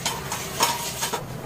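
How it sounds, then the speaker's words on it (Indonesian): Dried anchovies (teri) frying in a pan for a cassava leaf curry, a soft steady sizzle with scattered scraping and stirring clinks, close and fairly quiet, with no talk. "Saya akan goreng dulu sampai garing ikan terinya."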